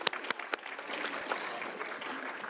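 A city council meeting audience claps, beginning with a few sharp separate claps and swelling into soft, steady applause across the room.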